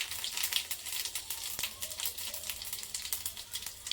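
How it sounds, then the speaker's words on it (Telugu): Mustard seeds, cumin and dried red chillies sizzling and popping in hot oil, a quiet crackling fry with rapid irregular spits and pops throughout. "ఇప్పుడు ఆయిల్ హీట్ అయిందండి. ఇందులో కొంచెం ఆవాలు, కొంచెం జీలకర్ర, ఎండుమిర్చి,"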